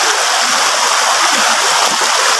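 A rural river rushes and splashes loudly and without a break, a dense close wash of flowing water that fills the whole moment, with no voices over it.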